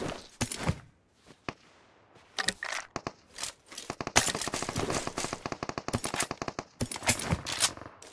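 Automatic gunfire in the mobile battle-royale game PUBG Mobile, in rapid bursts and single cracks that come close together and then settle into sustained strings of shots, loud and near, with no talk.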